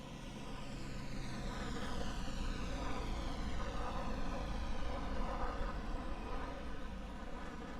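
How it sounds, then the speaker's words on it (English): An F-15 fighter jet taxis across the runway toward the apron at an air show, its engine roar loud and steady with a sweeping whine throughout, no pauses. "F-15 crossing runway back to the apron"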